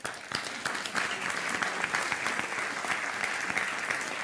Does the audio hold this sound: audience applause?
yes